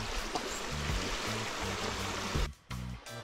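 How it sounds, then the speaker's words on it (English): Flowing water of the Pandy River at a Jamaican riverside, a continuous broad rush with low thumps and a brief dip near the end, no voices heard. "We're there up on the riverside"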